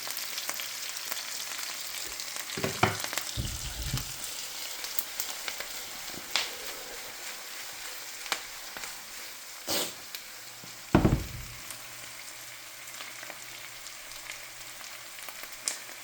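Curry ingredients fry in a hot pan with a steady, fairly quiet sizzle, broken by a few louder stirring knocks and scrapes near the middle and toward the end.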